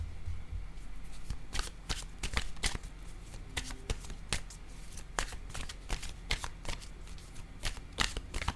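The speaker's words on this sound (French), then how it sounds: "Je vais piger maintenant une carte" Tarot cards are shuffled and drawn by hand, giving a long run of soft, fast riffling clicks and flicks at close range, steady and quiet, with no talking.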